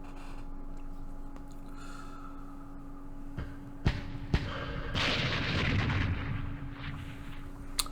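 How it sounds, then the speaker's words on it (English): Mortar rounds in a Vietnam War strategy game, the 1968 Battle of Tan An, land as two sharp booms followed by a longer rumbling blast over a steady low hum, with no talk. "Oh, the mortars! They finally did something!"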